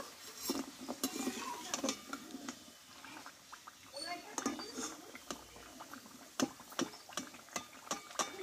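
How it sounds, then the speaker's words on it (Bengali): Homemade fried sweets are lifted out of hot oil with a metal utensil, making repeated clinks and scrapes against the pan over a low background. "দেখো মিষ্টিগুলো কিন্তু পুরোপুরি আমি ভেজে নিয়েছি, এবার তেল থেকে তুলে নেব।"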